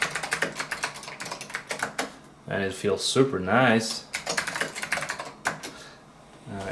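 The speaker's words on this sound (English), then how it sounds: "It's a late 80s mechanical keyboard" Rapid clacking keystrokes come from a late-1980s Focus mechanical keyboard, loud, close and clicky in irregular bursts, and a person speaks briefly in the middle.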